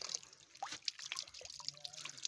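Spring water trickling and dripping out of a mountainside, with light splashes and droplets close by over a steady faint flow.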